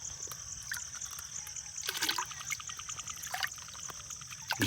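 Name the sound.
water being poured into a drum for waste decomposer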